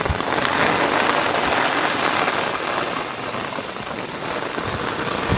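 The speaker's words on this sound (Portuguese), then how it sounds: "De repente a chuva chega muito forte mesmo" Heavy rain in the Sertão of northeastern Brazil pours down steadily and loudly, a dense continuous hiss of drops on surfaces close by, with no voices.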